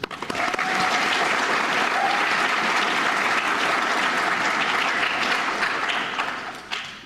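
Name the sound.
audience applauding at National Honor Society induction ceremony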